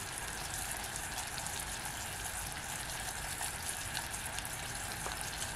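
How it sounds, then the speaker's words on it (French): Water poured into hot caramel hisses and splashes in a steady, loud, broadband rush that holds without a break, close by and with no talking. "quand on versera l'eau, il faudra faire attention parce qu'il va y avoir des éclaboussures"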